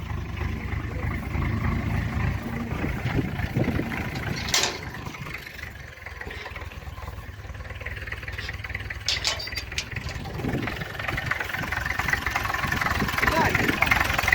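A homemade tractor's engine runs steadily with a low, continuous rumble during a village trip to fetch water, and voices can be heard now and then over the engine.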